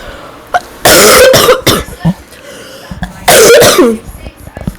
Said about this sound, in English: I got a bit of a cough